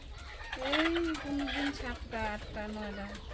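Free-ranging desi laying hens cluck in several drawn, wavering calls close by, one after another, over a low background hum.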